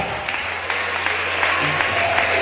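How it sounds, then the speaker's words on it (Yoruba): An audience claps steadily through the clip in a hall, a dense patter of many hands, with a low hum underneath. "Ẹ pàtẹ́wọ́ fún bàbá"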